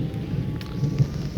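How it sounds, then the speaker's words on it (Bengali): Steady rain falls with low rumbling thunder at a riverside kash grass field, a continuous wet wash with a few soft swells of rumble. "বিদ্যুৎ চমকানো এবং পাশাপাশি বৃষ্টি হইতেছে"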